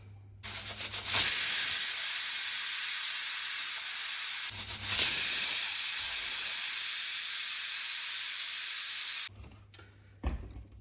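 A pressure cooker cooking tomato rice vents steam in two long, loud, steady hisses, each several seconds, broken by a brief pause and ending in quieter clicks.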